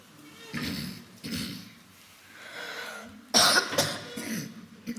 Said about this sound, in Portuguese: Desculpem que eu estou com um bocado de tosse